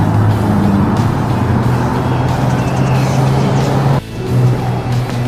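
Steady roadside traffic rumble at a bus stop in Canada, with a car passing close by and a brief dip near the end before the passing noise swells again.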